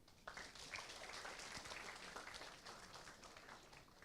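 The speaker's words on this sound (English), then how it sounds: "I want all of you to clap for them." An audience at a college induction and orientation programme claps together, with a brief burst of applause that is quite faint, fairly even and continuous for a few seconds.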